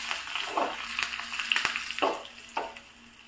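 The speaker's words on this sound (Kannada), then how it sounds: "ಈಗ ಒಗ್ಗರಣೆ ಸೊಪ್ಪನ್ನು ಹಾಕ್ತಿದ್ದೇನೆ." Curry leaves are dropped into hot oil already holding garlic and asafoetida for a raw jackfruit stir-fry, giving several sharp crackling sizzle bursts over a low steady frying hiss, close and moderately loud.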